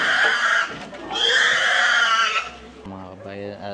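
Pigs squeal loudly and repeatedly at close range as they are led out for slaughter at a Batangas backyard butchering, with voices and other noises mixed in near the end.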